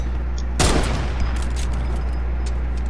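Fortnite gunfire during a build battle: a sharp burst of shots erupts and rings out loud near the start, then the noisy game ambience continues with a faint steady hum underneath.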